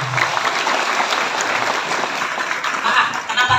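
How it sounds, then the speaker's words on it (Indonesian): Schoolchildren in a classroom clap for a classmate named Nadine after she reads a letter, a lively, crowded patter of small hands close by, swelling slightly before trailing off. "Ya, tepuk tangan untuk Nadine."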